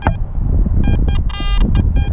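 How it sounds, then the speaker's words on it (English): A Garrett AT Max metal detector sounds repeated beeps in short bursts while sweeping over a shallow target, with a steady low rumble of ground and wind noise underneath throughout. "I'm getting a double beep here"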